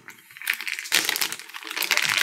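Plastic bag around a QNAP 10GbE managed switch crinkling and rustling close up in quick, irregular bursts, with no talking.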